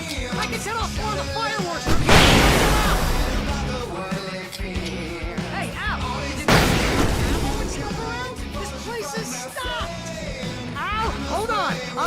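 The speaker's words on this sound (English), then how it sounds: "I can set off more of the fireworks from here and help you out!" Fireworks burst loudly during a chaotic night fight in the video game Alan Wake, with two big booming blasts followed by crackling debris and a steady roar, while someone shouts over the explosions.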